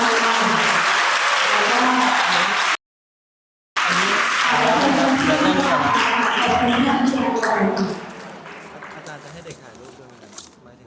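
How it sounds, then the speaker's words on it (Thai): An audience at a Buddhist dharma talk held at a school applauds the speaker. The crowd claps loudly, is briefly cut off, then resumes with voices mixed in before fading to scattered sounds and talk. "ขอให้ผู้รับฟังนะคะช่วยปรบมือให้กับท่าน"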